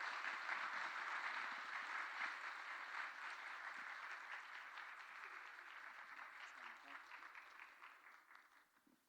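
A church congregation applauds a visiting pastor during a Sunday worship service, a steady wash of many hands clapping at moderate distance that slowly tapers off, with a faint voice underneath.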